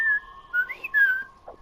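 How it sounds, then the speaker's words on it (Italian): Someone whistles a few short rising and falling notes, fairly close and alone, during a Fortnite hide-and-seek match; the tune is broken by brief pauses, and a faint click follows at the end. "lo senti il fischio?"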